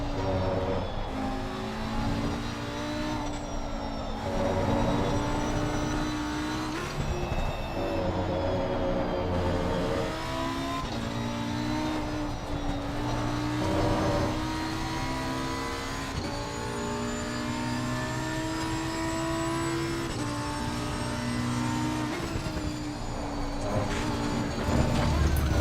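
Lamborghini race car engine in a racing video game droning continuously at high revs, loud and steady through gear changes and corners for the whole stretch, with no voices.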